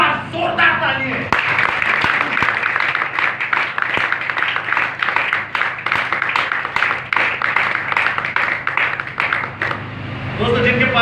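A church congregation claps loudly and steadily for about ten seconds, a dense, sustained burst of applause that starts after a brief pause and carries a voice underneath it.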